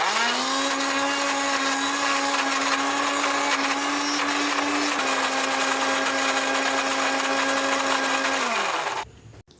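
A blender runs loudly and continuously for several seconds, its motor droning at a steady pitch while grinding a thick spice paste made with cooking oil, then cuts off abruptly.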